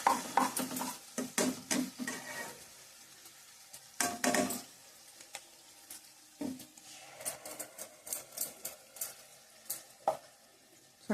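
Tomato and masala for a sand whiting fish curry fry in a pan, a soft steady sizzle broken by repeated scraping stirs of a spoon against the pan, with no one talking.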